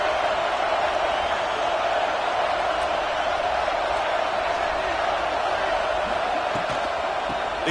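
Football stadium crowd in a video game, a steady loud roar that holds unchanged throughout, with no clear cheers or peaks.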